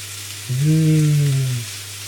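Sausages fry in a pan for bangers and mash, giving a steady close sizzling hiss with a low tonal hum that swells for about a second midway.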